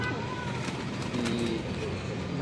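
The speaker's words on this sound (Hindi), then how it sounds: "ये हमारे माइकल कबूतर हैं। माइकल ब्रीड हमारी मशहूर है।" Michael-breed pigeons at a pigeon club headquarters in Dera Ghazi Khan give soft, low cooing amid steady background noise, with a voice talking faintly nearby throughout.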